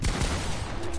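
Gunfire in Fortnite, a dense, booming burst of in-game shots filling a single second, loud and continuous with no speech.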